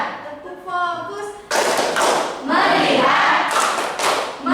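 A class of Islamic junior high students does a rhythmic call-and-response clapping game, with several loud bursts of group claps and shouts alongside a teacher's voice.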